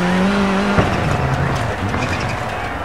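A rally car in Dirt 4, battered and sliding about, roars past with a shifting engine note and tire scrub, loud and close throughout the short burst.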